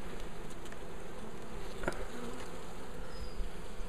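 Honeybees at an open, smoked hive, a dense steady buzzing swarm close by, continuous and fairly loud with no talking.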